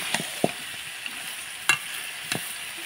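Duck meat is stirred through spices in a hot pan over a low, steady sizzle, with a few sharp scraping strokes of the spoon spaced out across the moment.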